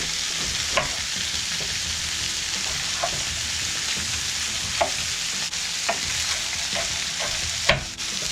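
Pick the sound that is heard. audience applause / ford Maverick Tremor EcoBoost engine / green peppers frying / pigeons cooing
green peppers frying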